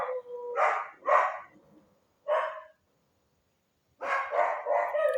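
Several dogs barking in a string of mid-pitched barks, a pair, a lone bark, then a rapid cluster after a pause, moderately near with no talk over them.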